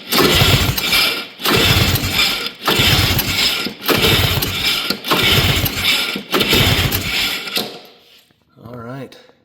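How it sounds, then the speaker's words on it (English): A carbureted snowmobile engine, a cheap marketplace sled, cranks over repeatedly with a Harbor Freight compression tester fitted to the magneto-side cylinder: six loud, even bursts of rhythmic churning separated by short pauses, then a brief quieter whir at the end. "Harbor Freight compression tester hooked up to the mag"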